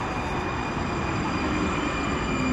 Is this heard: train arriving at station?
yes